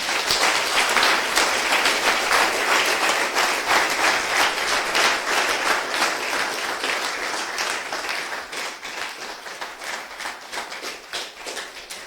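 Church congregation applauding a student with sustained, dense clapping that fills the room, fading slightly toward the end.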